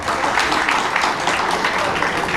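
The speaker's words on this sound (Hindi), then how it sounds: "तालियां इनके लिए।" An audience applauds during a traffic-awareness talk, a loud, dense and steady wash of clapping from many hands that fills the whole moment.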